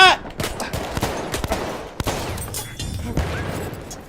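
Gunfire in the Battlefield 1 video game: scattered sharp shots and bursts of rapid fire in quick succession, moderately loud and fairly close, with no talking.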